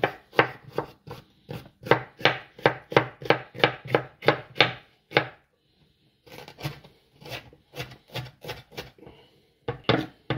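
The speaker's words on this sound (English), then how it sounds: "A couple of closed cut mushrooms, just chop those through" Knife chopping vegetables on a board, yellow pepper and closed cup mushrooms: a fast, steady run of crisp, close knocks, a brief pause with faint rustling, then more rapid chops, loud and without talking.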